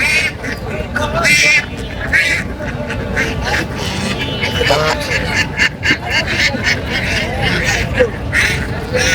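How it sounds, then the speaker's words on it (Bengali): Large geese of four to five kilograms at a duck and poultry market in Mirpur, Kushtia, keep up loud, overlapping honks and quacks close by, with someone talking steadily over the flock. "রাজহাঁসগুলোর সাইজ অনেক বড় প্রায় চার কেজি পাঁচ কেজি ওজনের হবে এই রাজহাঁসগুলো"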